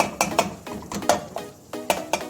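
Ground nut mixture made of four nuts, almond among them, being stirred and roasted in real ghee, giving rhythmic metallic scrapes and clinks of a spoon against the pan at close range with little sizzle.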